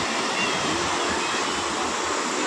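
Vyaghreshwar waterfall at Manche pours in a steady, dense broadband rush of falling water, loud and even throughout with no break and no voices.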